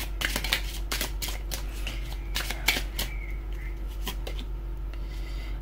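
Tarot cards riffle and slap together in a close, steady shuffle: a string of crisp flutters and taps over a low constant hum, with no talking.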